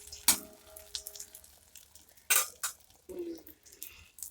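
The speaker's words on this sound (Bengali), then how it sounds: "এই দেখো ফাইনালি পটলটাও ভাজা বসিয়ে দিয়েছি" Pointed gourd (potol) pieces are frying in a pan in a home kitchen, with a faint sizzle under sharp clinks of a utensil against the pan and a few scraping stirs.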